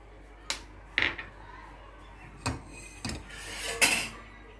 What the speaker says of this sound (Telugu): ఇవి ముందు డ్రై రోస్ట్ చేసుకుందాం.